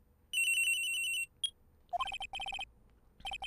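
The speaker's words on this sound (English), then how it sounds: "At around 10:30, I received a call on my cell phone." A cell phone ringing in Ace Attorney: Trials and Tribulations, an electronic ringtone with a sustained beeping burst, then repeated short melodic pulses in quick groups, close and clear.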